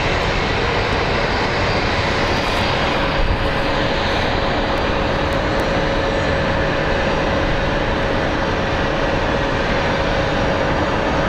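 A jet airliner in Seymour the Walrus livery roars steadily at Phoenix Sky Harbor International Airport, a loud, continuous engine rumble with a sustained tone running unbroken through the whole stretch.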